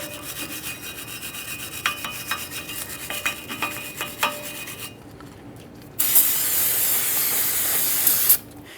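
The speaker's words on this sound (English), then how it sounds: "Use some parts cleaner, wire brush," Parts cleaner is sprayed onto the wheel bearing hub of a 2015-2020 Ford F-150 3.5L V6 in a steady, close hiss lasting a few seconds. Before it, rhythmic scrubbing strokes can be heard.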